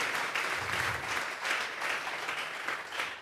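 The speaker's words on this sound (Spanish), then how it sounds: "Vamos a regalarle ofrenda de palmas al Dios de la gloria." A church congregation claps together in a steady, fairly loud round of applause as an offering of praise, with no talking over it.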